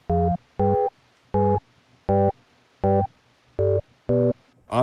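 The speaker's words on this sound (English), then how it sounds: "Just the sine wave." A pure sine-wave tone from the Korg Prophecy synth plugin plays in eight short, evenly spaced notes, each a clean steady hum with silence between, alone in the mix.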